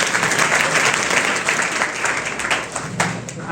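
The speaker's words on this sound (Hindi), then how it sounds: "ओके, जोरदार ताली बजाएंगे आप" Loud, dense applause from an audience at a motivational memory session, with hands clapping steadily and briefly dipping before surging again.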